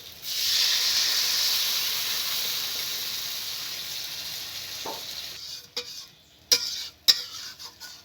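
Water poured into a hot pan of patol curry sets off a sudden loud hissing sizzle that fades slowly over several seconds, then a few sharp clanks of a utensil against the pan.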